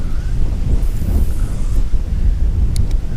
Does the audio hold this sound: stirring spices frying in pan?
no